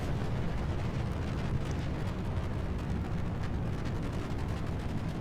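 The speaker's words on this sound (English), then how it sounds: "leaping off the pad with its insane thrust-to-weight ratio, thanks to those two massive solid rocket motors" A rocket with two massive solid rocket motors lifting off the pad in a video game, a dense continuous rumbling roar that holds steady and loud throughout, with no voices.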